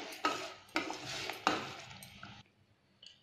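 A spoon stirs semolina for rava kesari in a pan, three scraping strokes in a steady rhythm, close and fairly loud, then a faint clink.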